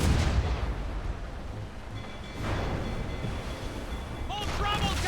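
Ship cannons fire in a naval battle in Assassin's Creed Rogue, with heavy booming blasts rumbling at the start and again midway, while voices shout over the battle noise.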